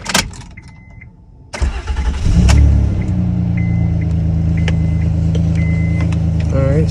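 Honda Accord engine fresh from a spark plug change cranks briefly, catches with a loud rumble, then settles into a steady close idle, with a faint voice near the end.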